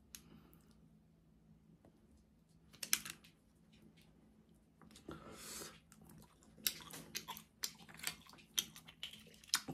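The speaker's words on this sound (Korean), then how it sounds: "자, 이제 홍합 한번 먹어보도록 하겠습니다." Boiled mussels being chewed and bitten in close, wet squishy bursts with small clicks, scattered irregularly and growing busier in the second half over a low steady hum.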